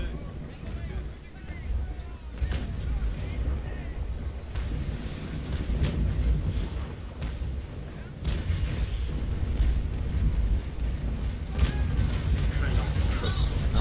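Naval Action cannon fire sounds as several dull, booming shots and rumbling blasts over steady wind and sea noise, moderately loud, with someone talking throughout.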